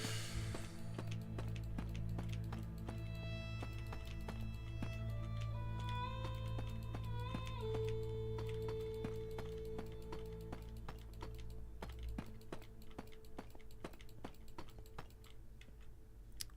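Clicks of quick typing on a computer keyboard run steadily and close up beneath loud music, with no voices.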